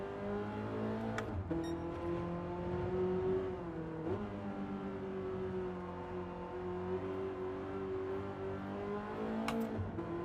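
Gran Turismo race car engine in a time trial, revving steadily through corners with several pitch drops as it shifts or lifts, then rising again, a continuous close drone with no speech.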